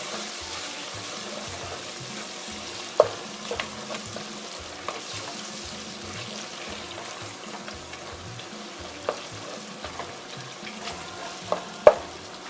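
Chopped mixed peppers frying in a pot for chicken stew, stirred with a spoon: a steady sizzle runs throughout with a few sharp scraping clicks against the pot, close and clear.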